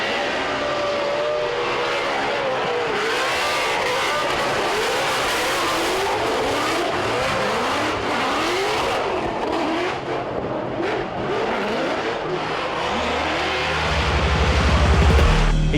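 A drift race car makes a hard run on a track, its engine roaring and revving continuously, with rising and falling pitch sweeps and a louder surge near the end, with no voices.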